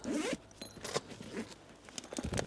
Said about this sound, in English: The front compartment opens with 2 zips